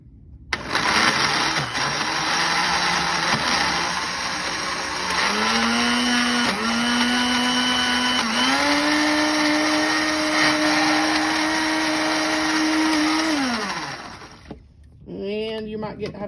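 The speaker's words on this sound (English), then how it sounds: "Now this is going to get kind of loud, so we're going to turn our blender on." A kitchen blender pulping paper scraps and water, whirring loudly and steadily for about thirteen seconds with its pitch shifting as the load changes, then cutting off and briefly restarting.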